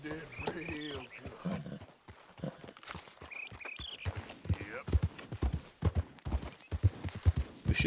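Horse hooves clip-clop at a steady walking pace in a video game, moderately close and mixed under a voice and other game sounds.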